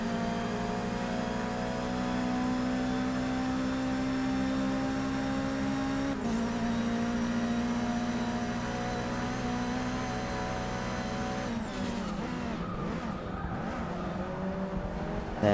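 Race cars in Forza Motorsport 6 drone continuously with steady engine tones, then shift pitch as they accelerate near the end, loud and sustained with no talking.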